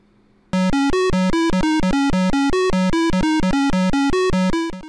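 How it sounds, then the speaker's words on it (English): An early PC beeper plays a short tune of harsh, buzzy square-wave tones. The notes step up and down in quick succession, loud and alone, before cutting off. "Early PCs had a beeper."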